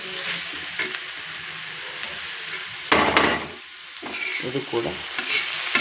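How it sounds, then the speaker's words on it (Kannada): Chopped green tomatoes fry in oil in a pan, a steady close sizzle with stirring scrapes and a louder clatter partway through, and a voice speaks briefly over it. "ಚೆನ್ನಾಗಿ ಹುರ್ಕೋಬೇಕು ನೋಡಿ."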